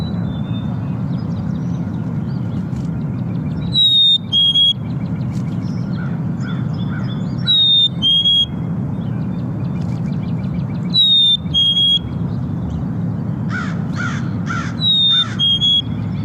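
Recorded bird calls, crow-like caws and chirps from a flock, repeating in short bursts every few seconds over a steady low rumble of background noise.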